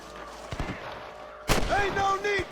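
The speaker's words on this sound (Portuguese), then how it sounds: "Deixa eu dar um tiro aqui só pra ele carregar." A single sharp gunshot fired in the western video game Red Dead Redemption, standing out loudly partway through, with game voices speaking right after it.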